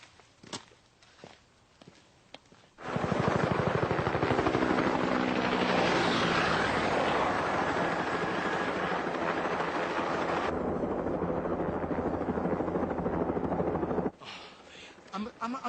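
A helicopter flies overhead in a steady, loud, throbbing roar with rotor chop that starts abruptly after quiet, soft footsteps and holds for about eleven seconds before cutting off and fading back to quiet.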